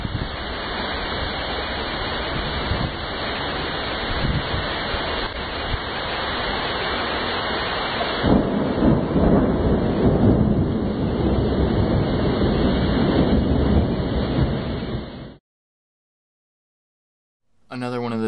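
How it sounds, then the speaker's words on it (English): Heavy rain pours steadily during a 2016 flood in Norwood, a dense, loud roar of falling water and runoff that surges midway, then cuts abruptly to silence before briefly returning; no clear thunder stands out. "It's the most rain I've seen fall in my area in a long time."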